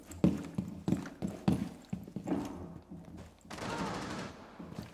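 Rapid bursts of gunfire in the video game Rainbow Six Siege during a ranked match, sharp shots clustered in quick volleys, followed by a louder sustained noisy burst near the end.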